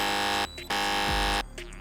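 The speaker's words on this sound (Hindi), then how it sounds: "टीम C ने सबसे पहले बजर प्रेस किया है" A quiz-show buzzer blares in two long, loud electronic tones separated by a short gap, the second followed by a brief pause and fading reverberation.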